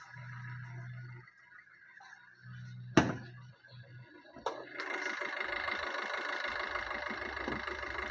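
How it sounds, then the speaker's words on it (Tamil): A Maruti Suzuki S-Cross diesel engine cranks with a sharp start-up burst, then settles into a steady, rumbling idle that continues evenly to the end. "வண்டி ஸ்டார்ட் ஆகிடுச்சு"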